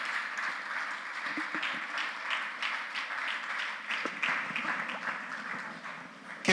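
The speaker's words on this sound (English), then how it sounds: "With a resounding round of applause" A large audience at an educators' summit in Ibadan gives a steady, dense round of applause, sustained at an even level for several seconds with no talking over it.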